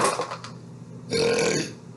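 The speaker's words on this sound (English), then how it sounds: "the sound of my burps were making him nauseous" Two burps sound close and loud, one short and one longer and drawn out, with no talking around them.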